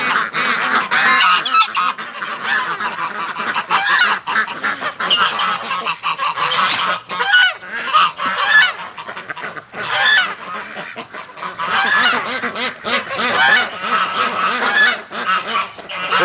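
Geese and ducks from a backyard flock raised from hatched eggs honk and quack continuously and loudly at close range, a dense overlapping chorus with no pauses.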